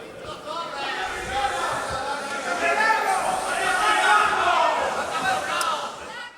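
A crowd at a public ceremony in Almería boos and jeers, a dense, sustained wall of massed voices that swells and stays loud for several seconds.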